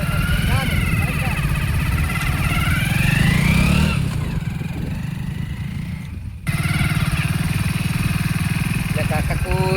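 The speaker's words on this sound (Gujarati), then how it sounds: "અરે બાઈક ચાલુ કરજે જી" A motorcycle engine runs with a steady low drone beneath loud, continuous conversation between men, outdoors, with the motor noise dipping briefly partway through.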